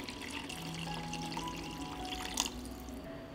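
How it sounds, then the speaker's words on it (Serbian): Water is poured over vegetables and spices in a cooking pot, giving a soft, steady splashing and trickling that runs the whole time, with a brief louder splash near the end; no one speaks. "I nalit ću sa vodom da prelije sve sastojke."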